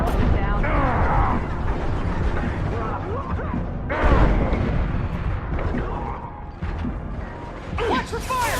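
Sustained gunfire from a firefight in Mass Effect, a dense stream of shots and mechanical clatter with a heavier burst near the middle, all mixed under talk and game chatter.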